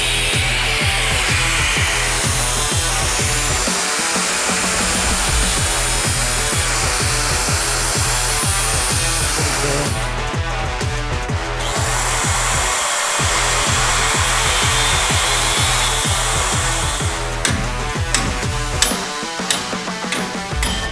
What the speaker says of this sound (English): If I got a bad nick, I'd just fill it in with some weld and grind it flat